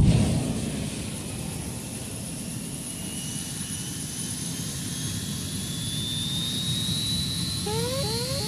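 Rocket engines ignite at liftoff in a heavy, steady roar like a jet, loud from the first instant and holding constant throughout with a high whine rising above it.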